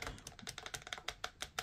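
Ratcheting knee joints of a 24-inch NECA Godzilla 2014 action figure are bent. Close up, a quick irregular run of about a dozen small, sharp plastic clicks sounds with no talking.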